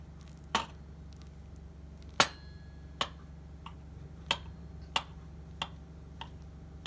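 A knife cuts through a baked apple roll pie, giving a series of sharp, separate chopping clicks spaced about a second apart against a low steady background hum.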